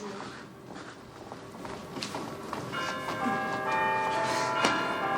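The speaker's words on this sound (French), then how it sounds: "Oh là là, encore cette cloche." A church bell rings early on a Saturday morning, its tolls building to a sustained, resonant ringing in the latter half, heard from a distance amid faint footsteps and ambient noise.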